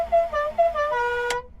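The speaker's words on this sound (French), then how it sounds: "Le klaxon, hop." Horn of a Renault 4L fitted with a Renault 5 1400 engine, a short series of bright, nasal toots sounded close up, ending in a sharp click as the button is released.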